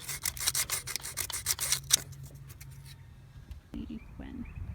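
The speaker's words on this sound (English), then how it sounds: "I'm just going around with a little piece of sandpaper" Quick back-and-forth scraping of a small piece of sandpaper across a Honda Odyssey rocker cover gasket surface, close and steady for about two seconds, then fading to faint rubbing and light handling noises.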